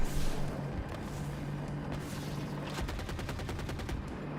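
Video game gunfire, rapid automatic bursts and crackling shots at moderate loudness, with a quick run of evenly spaced rounds toward the end.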